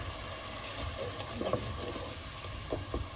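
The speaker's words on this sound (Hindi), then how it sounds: "अब इसमें मैं थोड़ा सा पानी डालूंगी।" A little water poured into tomato masala cooking in a pan for Sindhi rahu fish pulao, giving a soft, quiet sizzle and hiss with a few faint splashes and clinks.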